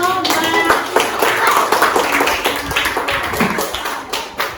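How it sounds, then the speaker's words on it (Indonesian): A classroom of students claps together after a group presents its math results, steady close applause filling the whole stretch with a few faint young voices mixed in. "tepuk tangan dulu"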